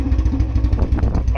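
A Royal Enfield Bullet 350 with a free-flow L-bend exhaust thumps in a fast, loud, close pulsing beat with a rough low rumble, and a voice briefly cuts in near the end.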